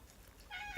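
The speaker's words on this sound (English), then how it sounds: "She's meowing." A cat gives a single drawn-out meow indoors after a short quiet pause, clear and fairly close.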